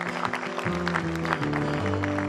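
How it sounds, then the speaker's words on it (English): A small crowd at an intimate backyard concert applauds the hosts of the home, a brisk scatter of clapping over a sustained, humming musical tone that holds throughout. "Give them a round of applause."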